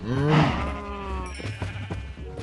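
Sheep on a farm give one loud, close bleat at the start, followed by quieter animal shuffling and rustling in the barn.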